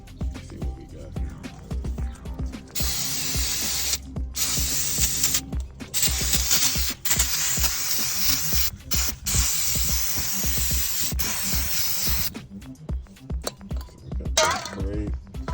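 Spray can spraying primer onto a car, loud close hissing bursts in several long stretches broken by short pauses, with clicks and handling noise between.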